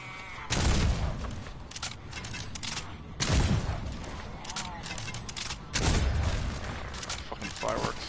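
Fireworks going off in the Fortnite Save the World video game: three loud, booming bursts about every two and a half seconds, with scattered crackling pops between them.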